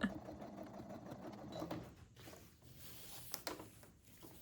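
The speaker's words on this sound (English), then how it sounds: "get to the sewing machine and do a basting stitch" Sewing machine running a basting stitch along fabric binding for outdoor box cushions, a steady mid-level whir that shifts in speed and pauses briefly with small clicks, alone in the room.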